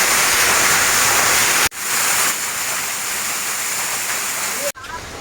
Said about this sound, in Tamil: இது சிற்றருவி.